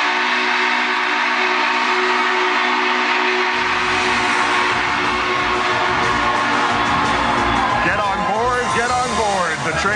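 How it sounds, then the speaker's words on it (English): Union Pacific 844 steam locomotive whistle sounding loud and sustained with steady harmonic tones, joined partway through by a heavy rolling rumble, with voices audible beneath the din. "It was the train."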